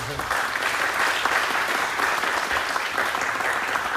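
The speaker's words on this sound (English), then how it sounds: "Round of applause for him." Steady, dense applause from an audience at a Medal of Honor ceremony held at a national cemetery, filling the whole stretch at an even, fairly loud level with no break.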